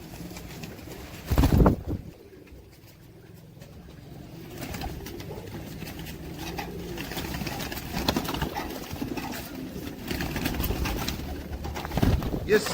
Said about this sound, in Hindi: ये सारे पीली पीले पलकों के कबूतर है।